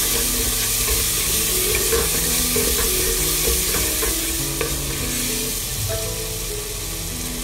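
Masala spices for aloo palak frying in a pan while being stirred, a dense continuous close sizzle with rhythmic scraping of a spoon against the pan, loud and steady with no voices.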